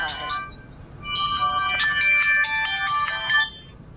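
Mobile phone ringtone from an incoming call, a bright electronic melody that rings loud and close in two bursts, with a short pause between them.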